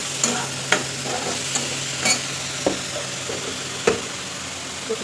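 Potato and eggplant curry sizzles steadily in a pan. Sharp clacks of a spoon stirring against the pan cut in at irregular intervals.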